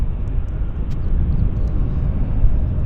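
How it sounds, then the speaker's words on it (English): China Southern Cargo plane landing at Vancouver airport, heard as a loud steady low rumbling engine roar that continues unbroken with no talk. "China Southern arrives in style at YVR. Congratulations to the pilots for such a beautiful landing."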